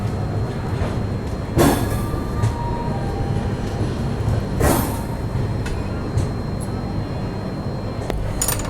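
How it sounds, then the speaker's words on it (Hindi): Banaras New Delhi Superfast Express leaving Prayagraj Junction, a steady loud low rumble of the moving train with occasional clanks and rattles as the coaches roll. "फाइनली अपने स्केड्यूल टाइम से 25 मिनट लेट हम लोग प्रयागराज जंक्शन से निकल रहे हैं अभी"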